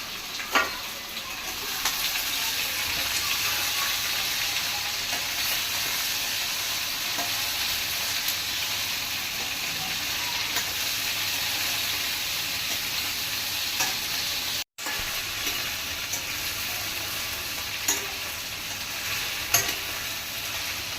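Steady, loud sizzling of okra pieces frying in a pan after tempering, with occasional stirring scrapes and clicks throughout; no talking.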